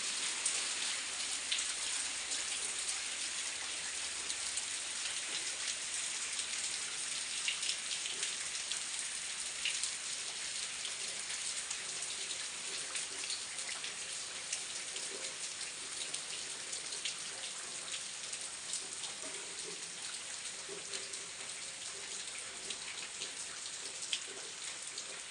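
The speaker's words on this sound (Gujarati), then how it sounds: "ગાઈસ તો જો બરાબર વરસાદ ચાલુ થઈ ગયો છે." Steady rain falls on surfaces outdoors on an evening, a soft, continuous hiss with dense scattered drop patter, fairly quiet and even in level, with no voices over it.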